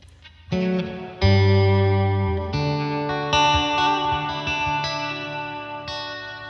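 Sustained Fender Acoustasonic guitar chords ring out through heavy, washy reverb and chorus, each strum blooming into a long shimmering tail.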